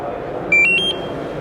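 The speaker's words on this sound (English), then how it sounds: "you push the button, and the alarm will go off." A brief electronic alarm tone from a fire station alerting system sounds for about half a second, a few bright beeping pitches over a steady background hum.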